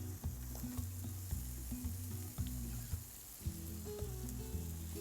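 Vegetables for chicken Marsala, seasoned with citrus zest, salt and pepper, sizzle and fry steadily in a pan, a continuous close crackle with a rhythmic scraping or stirring pattern running through it, no talking.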